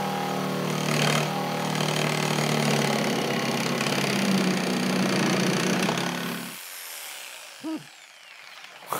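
A Makita jigsaw cuts curves in wood, a loud buzzing, rattling motor drone with heavy vibration for about six seconds, then it stops abruptly, leaving quiet with a brief squeak and clunk.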